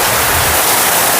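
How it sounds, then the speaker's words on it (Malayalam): Very heavy sudden rain pouring down, a dense roaring hiss with no pauses, loud and close, nothing else audible over it. "ഇതിപ്പോ പെട്ടെന്നുള്ളൊരു മഴയാണ്. അതിതീവ്ര മഴ."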